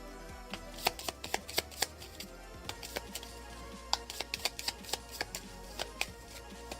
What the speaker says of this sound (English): so we're going to shuffle or discard